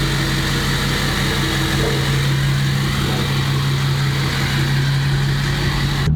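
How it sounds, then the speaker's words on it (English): Tuned diesel pickup with a DPF delete pulling onto a highway, a steady loud engine drone with a strong low hum and constant road and wind noise throughout, no talking. "Pulling onto the highway."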